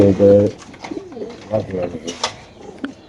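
Pigeon at a Bengali pigeon market, likely a BRPFC racer, giving a few soft throaty coos close by, with other birds and voices faintly in the background.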